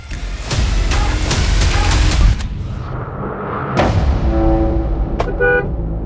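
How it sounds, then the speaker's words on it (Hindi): Several short car horn toots ring out at a car stopped in the middle of the road over traffic noise, followed after a pause by further honks, loud and close. "गाड़ी सड़क पे बीचों बीच खड़ी करके खड़े है ना, तो हॉर्न सुन रहा है।"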